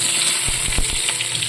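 Potatoes fry in hot oil in a home kitchen pan, giving a steady close sizzle with a few faint pops and clicks throughout, and no voices.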